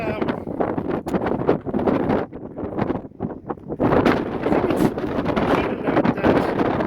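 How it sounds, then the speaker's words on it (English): Strong wind at Castle Rock in west central Kansas buffets the microphone in rough, roaring gusts that rise and dip, with a brief lull midway. "it's very windy here"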